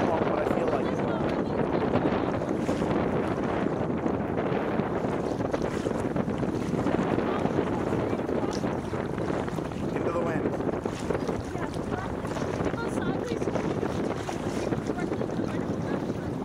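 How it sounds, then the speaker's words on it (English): Strong wind buffets a small boat out on open water near Strawberry Island, a constant roaring gusty rush over the microphone with splashing water beneath, loud and unbroken throughout. "this is my first time out in this with strong winds"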